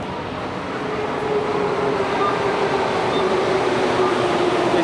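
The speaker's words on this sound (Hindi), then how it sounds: "ये मेट्रो आ गई है" An underground metro train in Santiago, Chile rumbles into the station with a loud, steady roar that builds slightly and holds, no talking.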